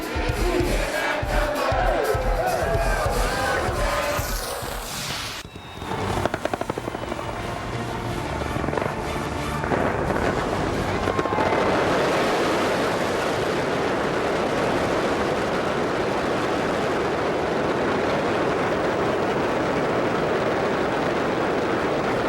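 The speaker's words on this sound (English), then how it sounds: "The fireworks, and boy, it is quite a display. You're looking at the fireworks now in Dubai." New Year's Eve fireworks display in Dubai, a dense continuous roar of bursts and crackling mixed with crowd noise, loud and sustained with no clear pauses.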